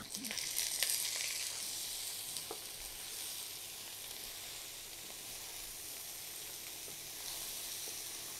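Bottle gourd greens with beans frying in a pan with onions and chillies, a steady loud sizzle and hiss that peaks early and settles into a continuous crackle, with no talking.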